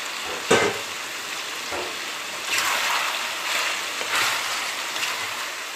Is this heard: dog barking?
no